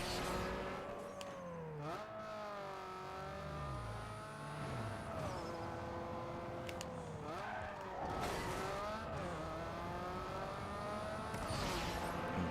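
A car engine revs and races through gear shifts in the video game Need for Speed Underground 2, its rising and falling pitch sweeping steadily over continuous game sound with no talking.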